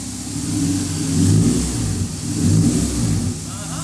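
A Honda K-series K24 engine in an EK Civic hatchback revs up twice in smooth, rising surges, close and loud, with a faint voice briefly underneath.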